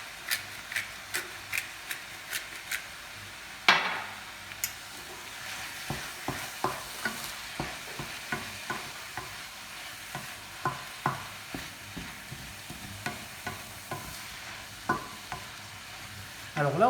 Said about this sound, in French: on va attendre que la viande soit légèrement cuite